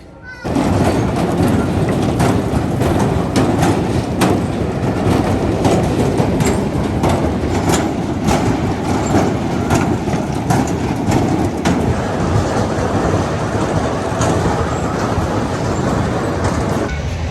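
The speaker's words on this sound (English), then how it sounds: "Mindblower was just running an empty train" An empty roller coaster train rumbles past steadily at moderate distance, a continuous roaring run with faint rhythmic clacks of wheels over track throughout.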